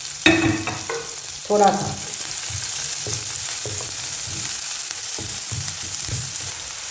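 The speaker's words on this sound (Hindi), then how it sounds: "ये छोटे साइज़ का मैंने प्याज का चॉप करके इसको थोड़ा सा सोते करेंगे।" Small chopped onions sizzle steadily in hot oil with cumin seeds in a pan, with a spoon stirring and scraping at intervals, close and continuous, while a voice speaks briefly.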